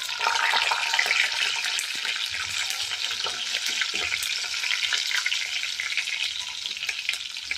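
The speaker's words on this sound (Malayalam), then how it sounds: "വെളുത്തുള്ളിയൊക്കെ പൊട്ടുന്നുണ്ട്." Garlic splutters in hot oil alongside curry leaves and green chillies while a lemon pickle is made. A dense, continuous sizzle sounds close, with crackling pops through it and no voices.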